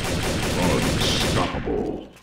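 Gunfire from a Garry's Mod TTT round crackles as a dense, continuous burst of loud shots and noise, lasting about two seconds before cutting off abruptly.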